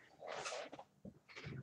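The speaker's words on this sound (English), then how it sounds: "And our birds are making noise." Pet birds chirp and squawk indoors in a room, a few brief, fairly faint calls in quick succession with no talking.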